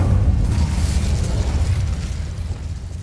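A burst of fiery spell effect from the Incendio charm in a wizard video game, a loud sustained rumbling whoosh that slowly fades across the clip with no voices.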